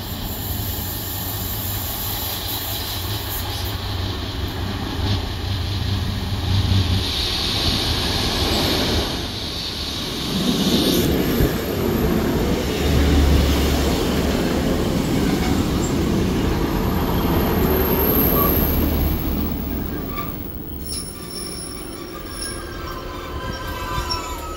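Great Western Railway units 15238 and 15246 pull in on a service to St Erth in Cornwall, with a low rumble under a loud, high, continuous wheel squeal that swells and fades as the train draws close.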